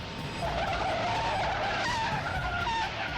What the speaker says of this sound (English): A mammoth courier truck swerves to avoid the patrol car